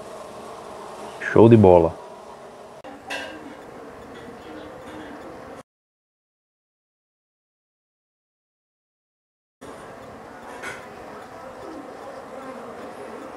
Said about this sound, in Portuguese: Olha aí como é que tá o enxame.